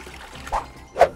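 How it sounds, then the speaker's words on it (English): Water from a city fountain in a town square: two brief splashing pours, the second louder, with quiet gaps between them. "The fountain."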